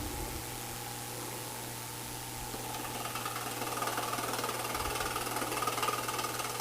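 A woodturning lathe spins at about 1,100 rpm during a woodturners' club demonstration, giving a steady motor hum with a low tone that grows louder and busier after a few seconds.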